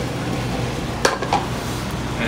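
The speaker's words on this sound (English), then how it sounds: "I'm gonna saute the pasta with the garlic" Tagliolini pasta is sautéed with garlic and anchovy in a pan, a soft steady sizzle with a couple of quick metallic clinks of a utensil against the pan, close by and without speech.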